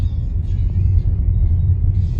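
A Tesla Model Y AWD Dual Motor Long Range pulls into a stop in Gulf Shores, Alabama, heard from inside the cabin as a steady low road rumble with faint higher tones.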